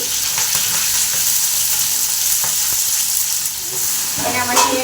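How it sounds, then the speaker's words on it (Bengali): Cauliflower and potato pieces frying in a pan, a steady loud sizzle with occasional stirring clatters and a brief burst of spattering near the end. "ভেজে নিচ্ছি।"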